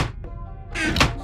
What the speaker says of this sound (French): on va mettre un SFX de coffre